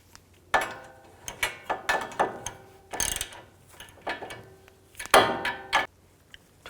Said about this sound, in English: Tighten the nut up. Use an 18mm socket.